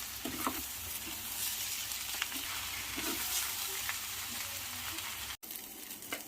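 Millet noodles being stirred in a hot pan, a steady close sizzle and crackle of frying with light scraping strokes of the spoon throughout.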